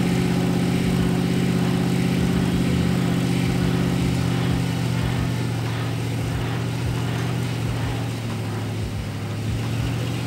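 A two-wheel-drive van's engine running steadily while it works its way out of sand on lowered tyre pressure, a loud, close, droning hum with a rhythmic low throb that eases slightly toward the end.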